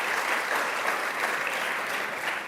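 An audience at Governor Hochul's Long Island resiliency announcement breaks into steady, dense applause that stays even for a few seconds before tapering slightly.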